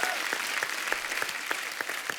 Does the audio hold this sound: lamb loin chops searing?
no